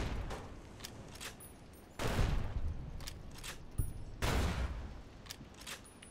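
Gunshots in the Fallout: New Vegas Lonesome Road game, two loud broadband blasts about two seconds apart, each trailing off slowly, over a steady bed of ambient game noise.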